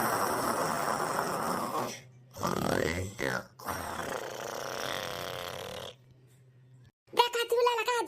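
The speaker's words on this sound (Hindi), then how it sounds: "कैसन खर्राटा लेके आराम से चैन के नींद लिया" Cartoon character snoring in comic sleep, loud drawn-out rasping snores separated by short silences, with a burst of animated voice at the end.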